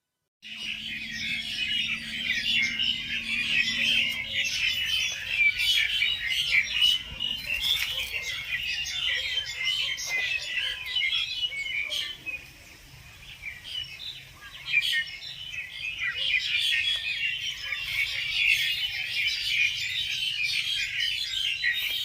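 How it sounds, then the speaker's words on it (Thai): Birds chirp and twitter continuously in a garden, a bright, busy chorus, with a few faint lower tones early on and no talking. "ดูบรรยากาศเสียงนกร้อง"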